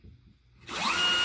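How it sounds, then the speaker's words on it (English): A power drill biting into a wooden wall stud, starting abruptly after a quiet moment and whining loud and close with a rising pitch through the final half second. "when you drill into the stud, you know that you found it because of how hard it is to"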